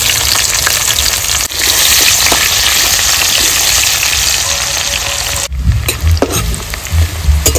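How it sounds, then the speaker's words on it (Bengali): Dried chili, bay leaf, whole cumin and chopped onion fry in hot oil, a loud, dense sizzle heard up close with stirring scrapes, briefly dipping before the crackle flares again. "ফোড়নে দিয়ে দেবো শুকনো লঙ্কা, তেজপাতা, গোটা জিরে, দিয়ে দেবো পেঁয়াজ কুচি।"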